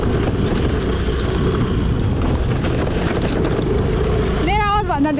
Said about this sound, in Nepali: मेरो आवाजभन्दा धेरै चाहिँ यो स्कुटरको आवाज चाहिँ आइरहेको होला